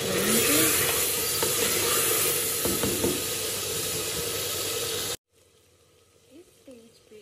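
Chicken browning in a pan, a loud continuous hiss and sizzle for about five seconds that cuts abruptly to a quiet room with faint clatter.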